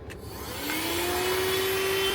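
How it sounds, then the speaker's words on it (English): A portable car vacuum cleaner starts up and runs steadily in a parked car, a close, loud motor whine that rises in pitch and then holds an even hum to the end. "get my bag, hook my vacuum up"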